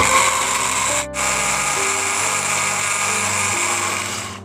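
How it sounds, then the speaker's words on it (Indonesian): A kitchen blender whirs steadily as it blends cireng batter ingredients with about half a litre of water, a loud continuous motor hum with a brief cut near the start, then running on with a slight pitch shift and no talk. "Kemudian kita blender."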